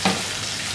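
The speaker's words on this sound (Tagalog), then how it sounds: "atin lang siyang ipa-brown ang kamatis hanggang sa lumabas yung kulay ng kamatis." A brief burst of sizzling as tomatoes fry and brown in a pan, a loud hiss that starts with a sharp onset and then holds steady.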